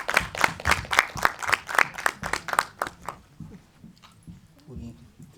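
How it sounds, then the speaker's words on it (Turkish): Rhythmic, fairly close hand claps from the audience at a TRT international documentary awards ceremony, sharp and evenly paced for about three seconds, then fading out as talking takes over. "Alkışlarınızla."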